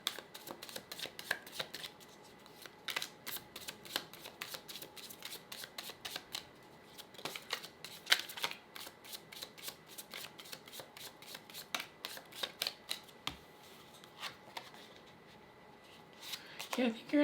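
Tarot cards are shuffled by hand in a rapid series of soft riffling flicks and papery slides. The rustling repeats quickly and close by, with a quiet voice faintly underneath.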